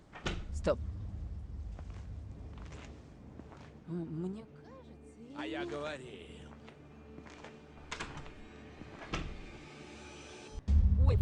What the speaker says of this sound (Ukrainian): Зараз вона має двері на провітрювання відкрити.